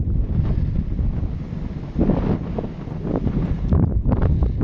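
Strong wind buffets the microphone in continuous loud gusts beside a lake during fishing and camping, rumbling and roaring with no voices.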